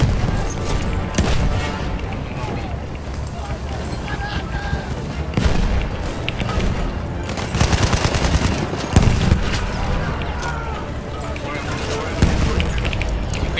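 Grenade blasts and gunfire in the Battlefield 1 shooter game, loud bursts of rifle and machine-gun fire with heavy booms scattered across the stretch, dense and close.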